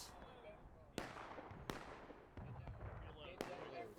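Musket volley fire in the War of Rights video game's Piper Farm battle with 250 players, heard as four sharp, loud cracks spaced irregularly over a constant battlefield din.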